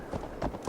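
Horse hooves clip-clop in a quick, uneven run through a town street in Assassin's Creed Valhalla, a few soft thuds at low level with no talking.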